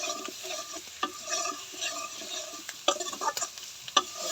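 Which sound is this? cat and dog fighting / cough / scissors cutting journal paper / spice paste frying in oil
spice paste frying in oil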